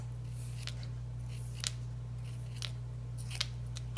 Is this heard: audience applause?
no